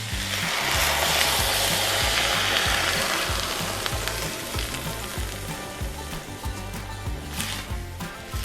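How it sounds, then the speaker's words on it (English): Red wine poured into a hot pan with beef drippings, first a loud close sizzle and hiss that gradually eases into quieter bubbling and scraping as the pan is stirred. "what I'm going to do now is I'm going to add my wine"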